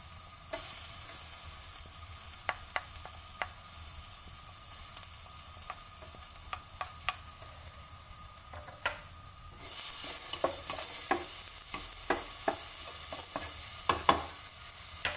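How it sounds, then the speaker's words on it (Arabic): Two garlic cloves frying in a little olive oil in a hot pot, a steady low sizzle broken by scattered crackles and stirring clicks, growing louder partway through, with no talk. "تندير الطنجره تسخن وتندير فيه واحد شويه نتاع زيت الزيتون، زيت المائده، تنضيف جوج فصوص الثوم"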